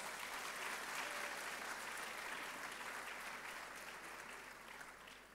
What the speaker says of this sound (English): Shall we please give a loud round of applause?